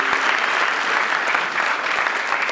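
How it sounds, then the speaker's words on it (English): Dense crowd applause at a charity foundation launch event, a continuous loud roar of clapping hands sustained throughout. "Give them a round of applause as well."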